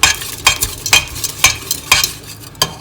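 A spoon stirs a sauce mixture thickened with a little flour (maida). It makes rhythmic scraping strokes about twice a second, close and clear, with a faint sizzle underneath and no speech.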